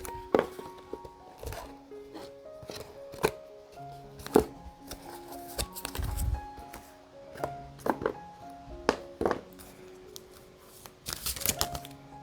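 Oracle cards are shuffled by hand in soft, irregular bursts of riffling and tapping, close and fairly quiet, with occasional thumps and no talking.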